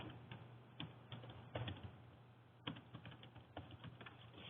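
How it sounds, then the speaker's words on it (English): Fingers type on a computer keyboard in quick, irregular bursts of soft clicks, with a brief pause midway before the tapping resumes, quiet and close. "we're going to begin typing in"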